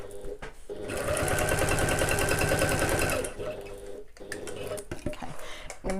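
A sewing machine basting a zip gusset for a bag whirs in a fast, even run for about two seconds, then stops, followed by quieter handling noises and clicks.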